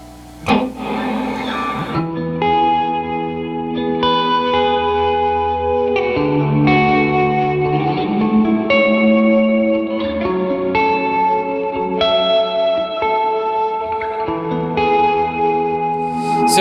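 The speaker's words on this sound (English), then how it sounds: "Or I'll often do a hall sound" Guitar notes ringing out in a spacious hall-style reverb, each phrase blooming and trailing off into a wide, echoing wash, played alone without speech.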